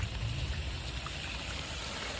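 Water pours steadily down from a leaking terrace in a continuous, close splashing rush with no pauses and no voices.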